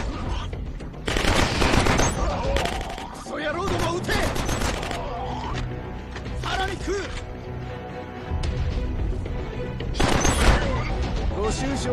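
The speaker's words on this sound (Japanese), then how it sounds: "クソ野郎どもは撃て。" Sustained gunfire from Killzone Mercenary on PS Vita, loud bursts of automatic fire with mechanical clatter and booms repeating throughout, dense and close, with in-game voices speaking over the shooting.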